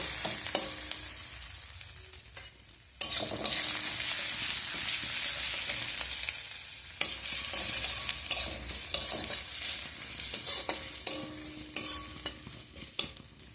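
Potatoes frying in a hot kadai for a homestyle vegetarian potato and eggplant curry, stirred with scraping strokes over a steady hiss that jumps louder a few seconds in and stays dense, close and unbroken, with no voices.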